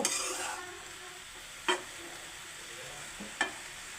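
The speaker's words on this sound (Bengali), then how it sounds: "তারপর আমি একটু নেড়ে নেব, মিক্স করে নেব" Drumstick flowers fry in a little oil while being stirred, making a quiet steady sizzle. Two sharp spoon-on-pan scrapes stand out about two seconds apart.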